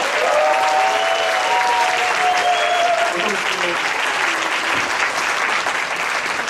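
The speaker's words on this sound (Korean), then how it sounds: "하나님께 감사한 마음과 목사님을 환영하는 마음으로 박수로 맞이하겠습니다" Congregation applause at an evening church revival service welcomes the pastor to the stage: a steady, dense wash of clapping from a large crowd that lasts throughout, with voices and tonal sounds faintly mixed in.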